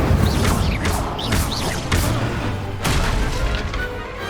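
A fire spell blast in the Hogwarts video game, with several loud bursts and crashes booming in sequence amid game effects and whooshes.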